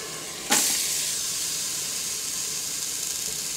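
Broth poured into a hot Instant Pot on the saute setting: a sudden sharp sizzle bursts out, then settles into a steady, loud steamy hiss that carries on without talk.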